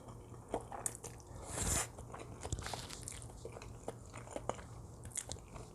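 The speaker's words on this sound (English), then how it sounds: "the crunch texture of kimchi is pretty fun" Crisp bites and chewing of kimchi cream pasta, with crunchy kimchi giving irregular close-up crackles and squishes over a quiet, steady background.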